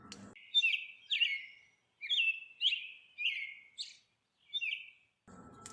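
Pet birds give about eight short, bright chirps in an irregular series, close and clear against an otherwise quiet background.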